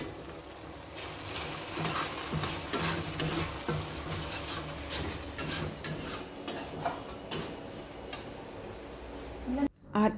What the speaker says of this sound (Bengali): এই দেখো মশলাটা আমি এখানে ভাজছি।